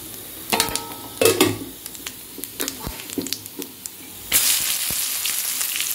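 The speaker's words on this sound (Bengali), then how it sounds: "এবার এর মধ্যে পেঁয়াজটা আমি ঢেলে দেব।" Sliced onions tipped into hot oil tempered with whole garam masala, cumin, bay leaf and dried red chillies for a jackfruit prawn curry, giving a burst of sizzling with stirring scrapes and clinks, loudest near the end.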